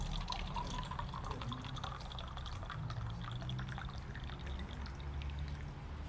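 Kangen water poured onto a tea bag, a faint, steady trickle of liquid splashing into a cup for several seconds, with light drips over quiet background noise.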